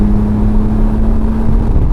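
Porsche 911 GT3 Touring engine heard from inside the car while driving, a loud, steady engine drone with a low hum under it and no talking.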